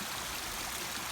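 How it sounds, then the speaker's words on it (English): Water pours steadily from a pipe, a continuous faint rushing flow with no pauses and no voices. "the water is flowing, and it will flow more and more vigorously every"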